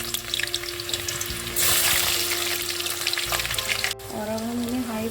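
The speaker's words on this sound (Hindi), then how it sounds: "इस तेल में अभी हम प्याज फ्राई करेंगे" Onions fry in hot oil for chicken biryani, giving a dense, loud, continuous sizzle that swells into a brighter hiss partway through and then settles back, close up, with a faint tonal hum underneath and no speech.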